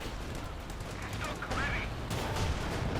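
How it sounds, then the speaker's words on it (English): Machine gun fire in a Company of Heroes 2 battle comes as bursts of rapid gunshots mixed with other weapon fire and explosions, moderately loud against game battle noise, with a commentator talking over it. "Machine gun away on the first Stug."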